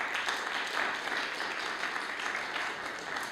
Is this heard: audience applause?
yes